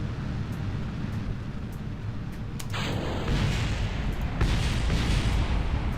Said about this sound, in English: Yeah, there were some weird explosions.